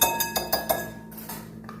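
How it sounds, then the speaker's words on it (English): A whisk beats beignet batter in a bowl, giving a quick run of light clinking taps against the bowl that fade into softer scraping, close by with no voices. "So whisk it up, whisk it up, whisk it up, whisk it up."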